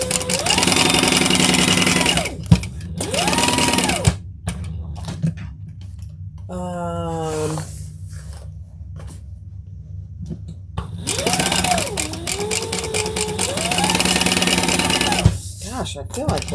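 Sewing machine basting a beach tote, running in bursts of rapid, steady stitching up close, with pauses between runs where a voice talks quietly.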